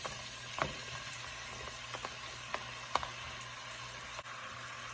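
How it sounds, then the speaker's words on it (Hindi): Onions fry in cooking oil in a pan for bhuna aloo baingan, a soft, steady sizzle broken by a few light clicks and taps of stirring. "अच्छा, सबसे पहले मैंने पैन में कुकिंग ऑयल डाल दिया है और साथ में ये प्याज डाल रही हूँ।"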